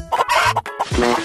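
Chickens cluck in a psychopath-boy puzzle video game as they surround the spot where eggs lie, several short close clucks and squawks in quick succession with game sounds between them.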